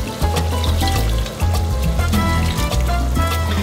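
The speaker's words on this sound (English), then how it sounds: "Throw in just a little bit of the water from the sweet potato again." Starchy sweet potato cooking water pours and trickles into a curry pan, mixing with steady close bubbling and sizzling, dipping briefly near the middle.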